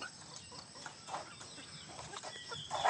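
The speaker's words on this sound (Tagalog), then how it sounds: "Nakawala ang manok." A chicken on a farm clucking in short, faint bursts, with quiet rural background around it.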